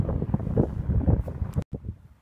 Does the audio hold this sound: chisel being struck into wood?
no